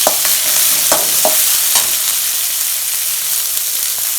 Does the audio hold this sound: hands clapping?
no